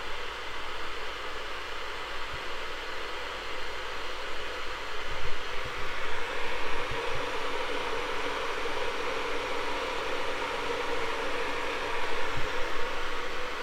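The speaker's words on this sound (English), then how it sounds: "So that's the noise of this kettle in its early part of the boiling." A Dualit Classic electric kettle rumbles and hisses in the early stage of boiling, a steady broadband rush with faint low ticks and slight swells.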